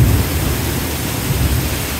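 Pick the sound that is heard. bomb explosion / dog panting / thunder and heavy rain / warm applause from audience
thunder and heavy rain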